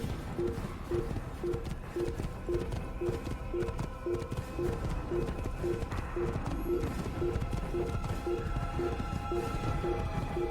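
Horse hooves clip-clopping in the Assassin's Creed video game, a steady rhythmic trot of repeated hoof beats throughout, fairly faint beneath game music and ambient sound.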